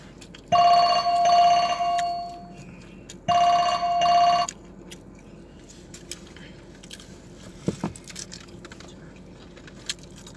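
A telephone rings loudly nearby in two bursts of bright electronic trilling, the first longer than the second, followed by quieter scattered chewing and small mouth sounds during a food-eating session.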